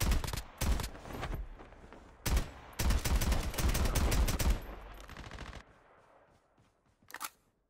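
Gunfire in a battle royale video game: several bursts of rapid automatic fire, loud and close, broken by short pauses, then a quieter stretch and one final brief shot.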